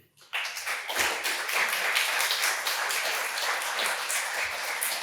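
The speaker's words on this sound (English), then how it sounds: "a big round of applause for our first group of speakers" A conference audience at a coastal climate research symposium applauds, sustained loud clapping from many people filling the room after a sharp start, steady throughout with no talking over it.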